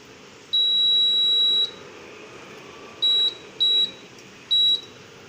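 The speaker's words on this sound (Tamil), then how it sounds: "ஸ்டவ் ஆன் பண்ணிக்கிறேன்." A stove beeps loudly as it is turned on: one long tone, then three short beeps spaced apart, clear and close with no talking.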